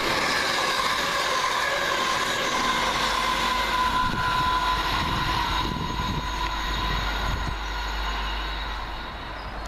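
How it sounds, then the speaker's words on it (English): A London Midland class 350 electric unit, 350.241, running from Liverpool to Birmingham, passes nearby with a sustained rumbling roar and faint whining tones, then eases away slightly at the end. "Next up, 1 Libra 85 for London Midland from Liverpool to Birmingham."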